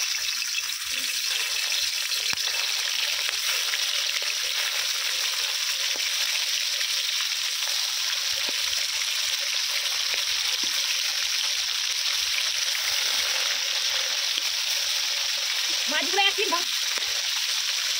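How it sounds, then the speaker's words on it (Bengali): Magur fish frying in very hot mustard oil in a pan, a loud continuous sizzle holding steady from start to end, with a brief faint clatter near the close. "গরম হয়ে গেছে, এবারে মাছগুলো দিয়ে দেবো।"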